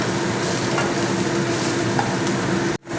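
Soybean chunks fry in hot oil with a steady, continuous sizzle and crackle that holds close and loud for nearly three seconds before cutting off abruptly near the end.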